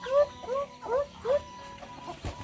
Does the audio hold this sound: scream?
no